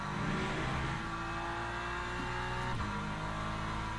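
An LMGT3 race car accelerates in the sim racing game Le Mans Ultimate, its engine a dense, continuous roar with a steady pitch line that shifts briefly near the end.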